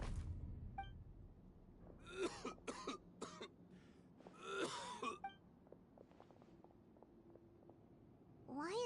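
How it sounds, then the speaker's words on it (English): Game character in Genshin Impact coughing, a series of harsh close coughs and throat-clearing bursts in uneven clusters over quiet background. "Why is he coughing?"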